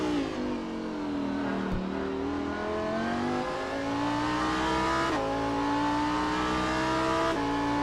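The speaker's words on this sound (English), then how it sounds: "Here's the view from Karl Struhol's cockpit in the number 42 Lamborghini STC." Number 42 Lamborghini Super Trofeo race car at Long Beach, heard from the cockpit: a loud, continuous engine roar climbing steadily in pitch, with sharp gear-change breaks around two and five seconds before it climbs again.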